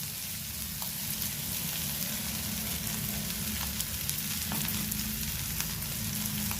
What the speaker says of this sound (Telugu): ఇప్పుడు ఈ ఉల్లిపాయ ముక్కలు వేసేస్తే 2 కలిపి ఈక్వల్గా వేగుతాయి